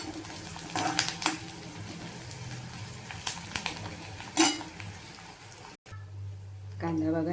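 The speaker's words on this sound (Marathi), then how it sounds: "कांदा बघा भाजत असताना कढीपत्ता पण टाकते." Onion and curry leaves fry in a pan for a Marathi home-style vegetable dish, a steady close sizzle with sharp bursts and scrapes, while someone talks over part of it.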